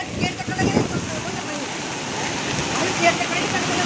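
Floodwater released from Himachal rushes through Punjab where embankments have broken, making a loud, steady, close roar of churning water, with voices calling out over it at the start.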